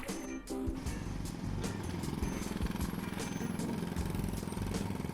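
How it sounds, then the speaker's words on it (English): A loud, rapid mechanical hammering with a rumbling engine drone, continuous and close, like a jackhammer pounding. "Jackhammer!"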